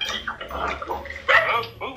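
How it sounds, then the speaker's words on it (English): A pet dog in a large family house gives a few short barks and yelps mixed with close, overlapping voices, the loudest bark near the middle. "that's my dog."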